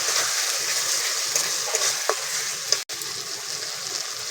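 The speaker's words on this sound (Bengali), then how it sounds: "জিরে, ধনে আর শুকনো লঙ্কা বাটাটা দিয়ে দিচ্ছি। মশলাটা ভালো করে কষিয়ে নেব।" A ground paste of cumin, coriander and dried chili fries in hot oil for mutton curry, giving a steady close sizzle with occasional stirring scrapes and one sharp tap, with no voices.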